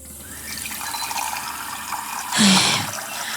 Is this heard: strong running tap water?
yes